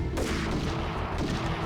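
Dense, continuous gunfire from a weapon in the shooter game Max Payne, loud and close with rapid overlapping blasts and no talk.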